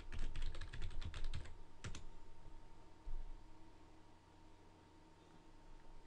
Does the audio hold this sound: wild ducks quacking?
no